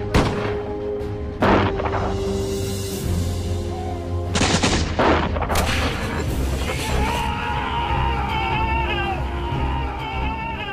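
Musket volleys crack and boom in a Revolutionary War battle with Hessian soldiers, several sharp loud reports followed by rumbling echoes and a dense layer of battle noise and voices.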